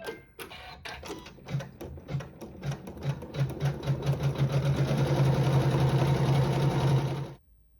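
A sewing machine stitching quilting through fabric, starting with slow separate clatters that speed up into a fast steady whir before stopping abruptly.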